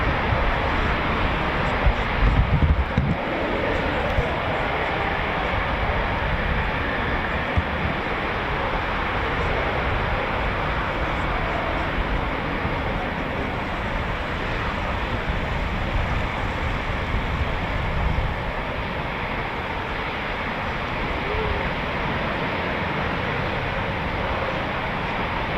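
A Eurofighter Typhoon FGR4 jet departing RAF Coningsby gives a loud, sustained broadband roar that fills the whole stretch at near-constant strength, a powerful continuous engine rumble with no pause.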